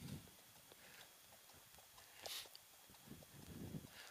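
Hooves of an Icelandic horse in tölt clip-clop in an even, rhythmic pattern, faint and fairly distant, with no voices over them.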